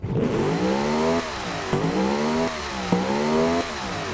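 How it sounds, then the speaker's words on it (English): A NASCAR engine in the driving game BeamMP revs loudly and repeatedly, pitch climbing then dropping with each throttle blip. "let's give our engine a listen. Now, this is NASCAR engine."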